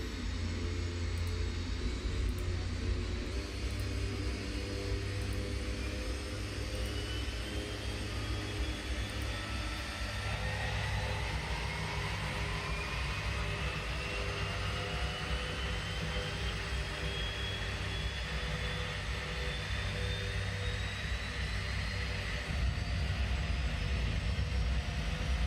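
An airplane in X-Plane 10 rolls along the runway with a steady loud engine drone and rumble, its whining tones sliding in pitch as it brakes and slows, with no voices.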